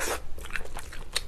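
Close, crisp bites and crunches on king crab, a few sharp cracks in quick succession with no talking.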